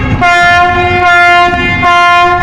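A RoRo inter-island vessel sounds its horn loudly and nearby, a rich harmonic blare given in several sustained blasts with brief breaks between them.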